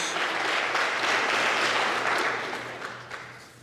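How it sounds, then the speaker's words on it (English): Crowd applause at a college coronation ceremony honoring a former Miss Bennett College, a dense, steady burst of clapping that holds loud for a few seconds before thinning and fading toward the end. "Let's have another round of applause for Miss Hannah Ross, former Miss Bennett College."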